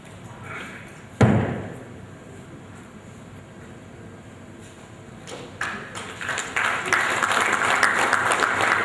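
Audience applause at a conference session on e-governance, starting after a sharp thud and building into steady, fairly loud clapping from a seated crowd with little talk.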